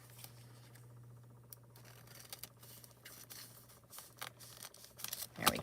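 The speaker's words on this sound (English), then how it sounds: "I'm going to cut these off the top." Scissors snip through coloured toner sheets close by, quiet rustling and scraping that builds to a louder crinkle at the end, with no talking.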